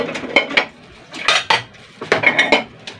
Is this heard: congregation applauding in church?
no